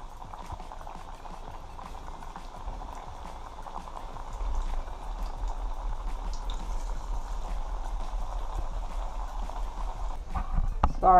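Green plantains frying Jamaican style in oil in a pot: a steady bubbling crackle that swells louder midway through and keeps going, with light taps and a clatter near the end, and no voices.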